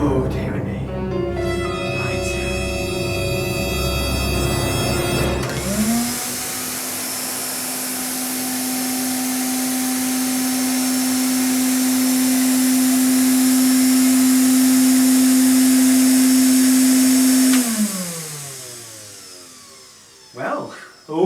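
A repaired vintage Hoover Constellation vacuum cleaner starts with a rising whine, runs loudly and steadily with a strong hum for around twelve seconds, then winds down; a voice is heard over the motor.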